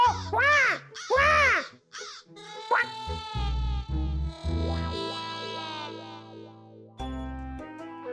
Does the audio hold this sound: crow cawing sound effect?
yes